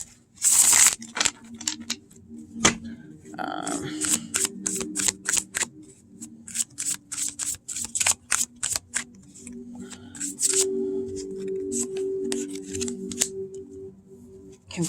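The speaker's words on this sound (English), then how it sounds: "Now let's pull from this card deck and see if we can get any further information on here" A deck of oracle cards shuffled, with a quick series of crisp riffling flicks and slaps close by in a quiet room.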